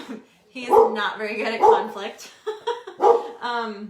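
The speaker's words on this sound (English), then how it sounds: "Sorry guys, that's my dog." A pet dog barks and yips repeatedly in several close, loud bursts, mixed with someone talking at home.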